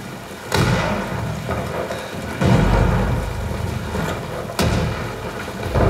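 Movie rain and thunder played through a Samsung Q930B Dolby Atmos soundbar: steady heavy rainfall with three loud, booming thunderclaps rolling out at intervals, no voices.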